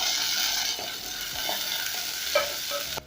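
Onions for pilau sizzle steadily in hot oil while being stirred, with a continuous close frying hiss and occasional scraping knocks of the spoon, and no voices.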